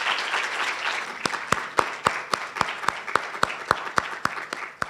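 Graduation oathtaking audience applauding at a university ceremony, a diffuse wash of clapping overlaid by a few sharp, evenly spaced nearby claps in a steady rhythm.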